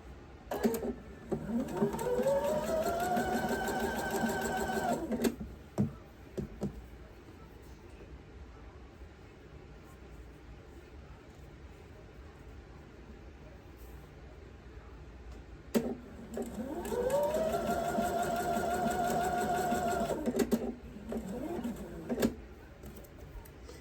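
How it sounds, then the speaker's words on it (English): A sewing machine stitches a quilt row in two long runs, each spinning up to a steady whirring hum and stopping, with a quiet pause and a few clicks between them. "Now I'm going to sew this last row."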